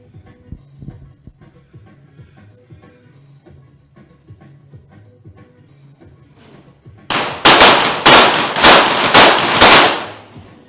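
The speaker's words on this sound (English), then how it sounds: "He got his first shot off quite quickly." Rapid gunfire at a shooting range competition, a quick string of about seven loud, sharp cracks in close succession, follows a quiet stretch of low background murmur.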